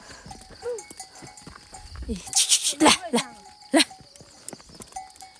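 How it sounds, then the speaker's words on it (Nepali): A herd of goats heading home from grazing on a hillside gives short bleats among scattered hoof taps and rustling, while a herder calls out and chats over them nearby. "ल अब हामी चाहिँ बाख्राहरूलाई अघाएर फर्किँदैछौँ"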